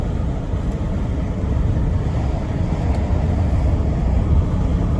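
A 1998 Chevrolet Silverado driving with the window down: steady low engine and road rumble with constant wind noise, loud and continuous throughout, no talking.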